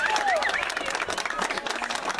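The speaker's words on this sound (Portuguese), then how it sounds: "Pessoal, aplausos para a nossa homenageada" Crowd applause breaks out for an honoree at a street love-serenade surprise in São Paulo's east zone. The clapping is brief and dense, mixed with cheering and voices, and a whistle-like tone rises at the start.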